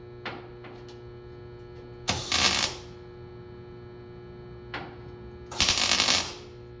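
Two short bursts of tack welding on a patch panel in the wheel well of a 1978 Ford F150, each a harsh crackling buzz lasting about half a second, over a steady electrical hum with faint clicks between.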